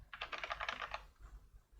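Quick keystrokes on a computer keyboard as a password is typed, a close, soft burst of rapid clicks lasting about a second before falling quiet.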